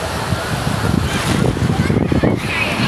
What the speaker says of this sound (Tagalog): Alon. Sarap ng alon.